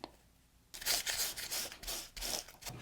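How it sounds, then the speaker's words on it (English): Scissors snipping through non-woven fabric for a hip bag, a quiet pause followed by several close, crisp rasping cuts in quick succession, alone. "You can also use your scissors."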